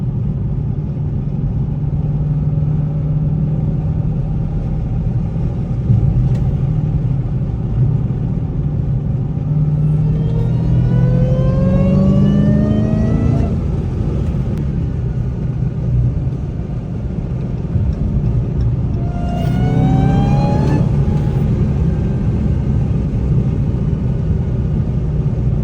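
A Dodge Hellcat Redeye rumbles steadily from inside while driving at 7 in the morning, with two loud revs that rise in pitch and cut off sharply, then drops back to a deep idle-like drone.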